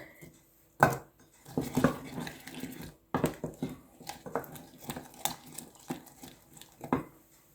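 A spoon scrapes and clinks around a pot of porridge with apple, giving a series of uneven, close knocks and scrapes at irregular intervals, fairly quiet and without talk.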